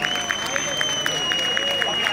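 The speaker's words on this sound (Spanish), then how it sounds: "Agradeceríamos un aplauso para estos" Spectators applaud at the trophy presentation of the XI Carrera Monumental Ciudad de Segovia 2023 race. The clapping is steady and rhythmic, with crowd murmur and a sustained tone behind it.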